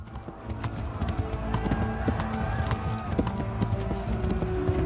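Horse galloping in the medieval video game Kingdom Come: Deliverance, rapid rhythmic hoofbeats over a steady background with a brief whinny-like tone, fairly close and continuous.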